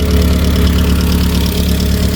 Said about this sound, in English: I think I've got some dry tappets. They're not the worst I've heard on these engines.